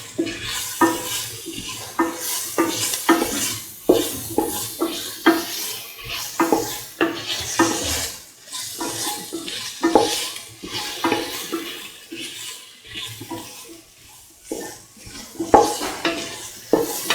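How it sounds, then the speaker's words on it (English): Rice mixed with carrot being sautéed and stirred in a pan for lemon carrot rice, with steady scraping and clinking of a spatula against the metal, light sizzling underneath, continuous and close, no talking. "Saute mix."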